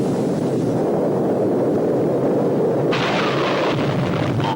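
Bombs exploding on the flight deck of the aircraft carrier USS Forrestal during its 1967 fire make a loud, continuous rumbling roar that swells into a harsher, brighter blast partway through, with no voices.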